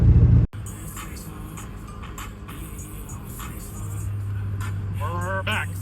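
A car drives on the road just after an alternator replacement: a thud at the start, then steady engine and road rumble with a sustained low hum joining partway through, and a brief chirp near the end.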